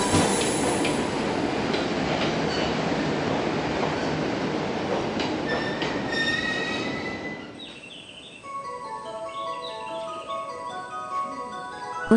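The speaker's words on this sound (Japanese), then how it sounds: "一度電車に乗って隣駅の仙石町駅に向かいます" A Japanese commuter train rumbles along the rails with a steady broadband roar, then slows as high, drawn-out wheel squeals and tonal whines take over near the end.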